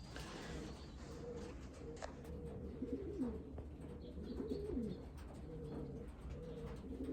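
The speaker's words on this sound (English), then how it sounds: "But man, I'm glad to see that bird." A homing pigeon back from a 350-mile race gives low, soft cooing phrases, repeated several times over quiet background noise.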